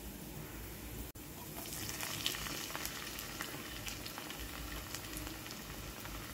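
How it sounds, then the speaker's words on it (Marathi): Chopped tomatoes frying in a pan with browned onions and ground sesame, a steady close sizzle with occasional crackles and a brief stirring clink. "आता याच्यात टाकणार आहे टोमॅटो।"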